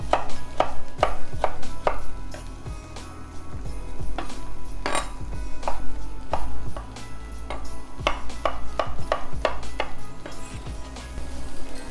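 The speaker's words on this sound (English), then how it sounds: "We're just going to chop them up." Leftover potatoes chopped with a knife on a cutting board, a quick run of sharp, close knocks in an irregular rhythm over a low steady hum, with no talking.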